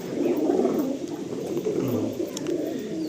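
Domestic pigeons in a loft coo in low, throaty, rolling bursts, close and fairly loud, with a few faint higher chirps scattered among them.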